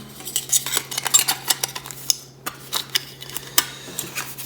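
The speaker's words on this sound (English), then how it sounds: "Let me go ahead and assemble the stove" Titanium camping stove parts clinking and clattering as they are fitted together, a run of sharp close metallic taps and scrapes in an irregular rhythm, no voice.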